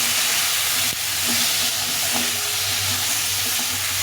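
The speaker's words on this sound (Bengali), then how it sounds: "সামান্য একটু জল দিয়ে দেবো দিয়ে সবজিটাকে ভালো করে ভেজে নিতে হবে" Vegetables fry in a pan with a splash of water, salt and turmeric, giving a steady, moderately loud sizzle with light hiss and faint background hum throughout.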